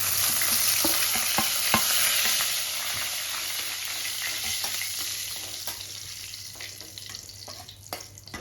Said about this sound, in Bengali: এবার এই তেলের মধ্যেই আমি গোটা জিরে, শুকনো লঙ্কা আর তেজপাতাটা ফোড়ন দেব।